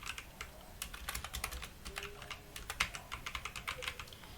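Keys on a computer keyboard clack in quick irregular bursts, close and fairly quiet, with no voice over them.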